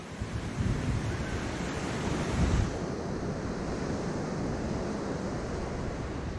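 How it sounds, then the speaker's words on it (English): Ocean surf washing onto a beach, a steady roaring wash with a swell building and easing, wind buffeting the microphone throughout. "Check out the beach."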